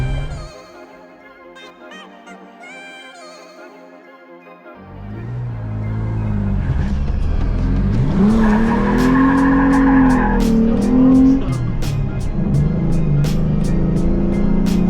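A Toyota Tacoma pickup starts after a quiet pause, then its engine rises and revs as the truck drives off. A drawn-out squeal of tires or drivetrain swells over the engine before easing into a steady run.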